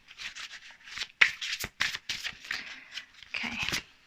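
Tarot cards shuffled by hand in quick riffling bursts and soft slaps, close and fairly quiet, with short pauses between handfuls.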